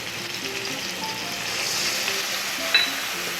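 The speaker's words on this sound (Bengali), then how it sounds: "মানে আদা, জিরে, লঙ্কার গুঁড়ো, হলদির গুঁড়ো দিয়ে মশলাটা আমি মিক্স করে রেখেছিলাম, সেটা ঢেলে দিলাম" A ground mix of ginger, cumin, chilli and turmeric hits a pan of cauliflower curry with potatoes and tomatoes, giving a steady close hissing sizzle that holds evenly, with one brief clink near the end.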